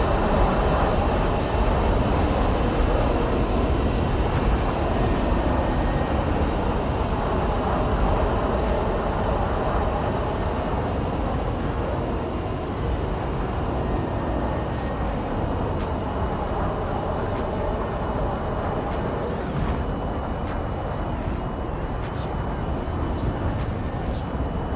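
Jet engine of a French Alpha Jet in the combat flight game War Thunder, a steady loud roaring whine that holds constant for the whole stretch with a faint high tone above it.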